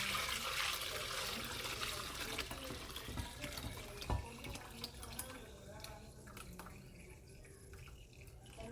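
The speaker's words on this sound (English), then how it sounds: "I'm going to try and not make a mess and pour this into these jars just to cover it." Sticky candied jalapeno syrup pours into jars with a continuous liquid gurgle and trickle, close by and moderately loud, with a brief clink partway through and the flow thinning toward the end.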